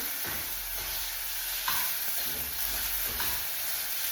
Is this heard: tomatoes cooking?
yes